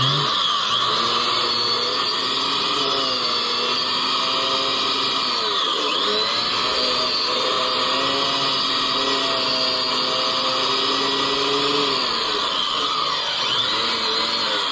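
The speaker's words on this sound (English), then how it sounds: "It sucks the oil out of the thing." An oil extraction machine working on an Oliver 1355 tractor gives off a steady, loud mechanical whine and drone with constant pitch. A few brief dips and swoops in tone break the continuous hum.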